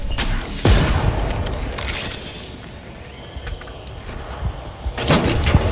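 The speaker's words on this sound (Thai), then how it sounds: "กำลังยิงระเบิดควัน" In the video game Apex Legends, sharp gunshots and a booming smoke grenade burst out over constant battlefield rumble, with heavier blasts near the start and end.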